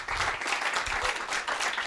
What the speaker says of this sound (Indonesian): Tepuk tangan buat Tuhan dong